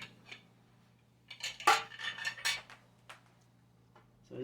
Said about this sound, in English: we're going to get them put in the pan